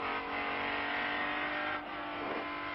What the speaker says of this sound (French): La voiture qui est devant nous ne veut pas se laisser doubler.